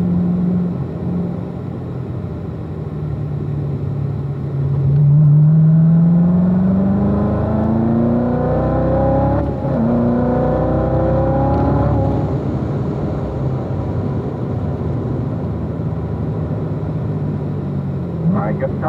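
A Chevrolet Corvette Z06 on hot laps at Spring Mountain race track, its engine note rising and falling through a corner and out onto the straight, heard from inside the car under an instructor's steady talk.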